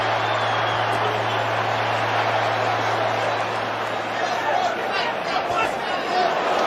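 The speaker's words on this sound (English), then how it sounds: "You hear the crowd's reaction." A boxing arena crowd at a Canelo Alvarez vs Billy Joe Saunders fight gives a steady murmuring roar in reaction to a missed uppercut, with a commentator talking over the noise.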